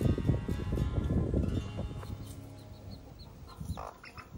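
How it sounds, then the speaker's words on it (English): Hens on a farm cluck and murmur in a close, irregular run of soft notes, mixed with scratching and rustling, with a few sharper calls near the end. "And that hen's roosting"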